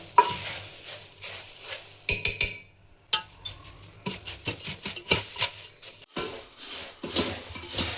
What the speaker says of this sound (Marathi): थंड झाल्यानंतर आपण हाताने हलवून घेऊया.